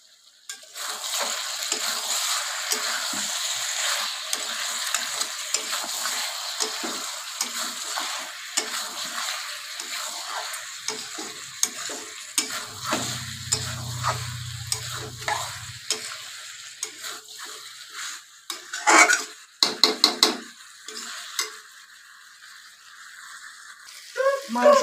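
Chicken pieces stirred and fried in oil in a pan while making Bengali chicken kasha, a steady close sizzle with scraping stir strokes throughout, briefly joined by a low hum and a few louder clattering knocks near the end.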